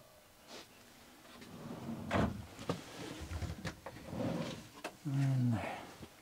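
Drawers in a small motorhome are opened and shut, giving a few soft knocks and slides followed by a louder thud-and-rattle near the end, close up in a quiet interior with a short low hum at the finish.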